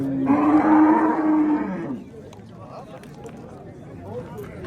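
A loud, drawn-out cow moo rings out close by at a busy Uzbek livestock bazaar where dairy cows are sold, then cuts off into a murmur of crowd chatter and market noise.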